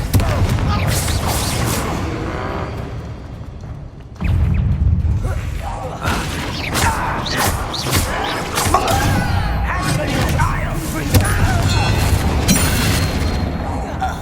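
Confringo spell blast in Hogwarts Legacy: a heavy booming thud cuts in sharply and gives way to rumbling, crackling game effects, loud and dense throughout.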